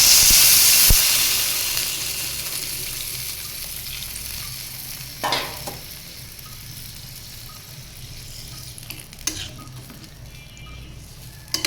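A vegetable curry in a pan sizzles loudly the moment water is added, a bright hissing burst that gradually fades to a softer simmer, broken by a few clinks of a utensil against the pan.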